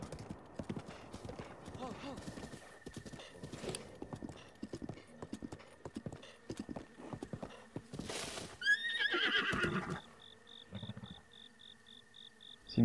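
Insects buzz in Zelda Breath of the Wild, a thin sustained drone and chirping among game sounds, with hoofbeats, a horse whinny and someone talking over it.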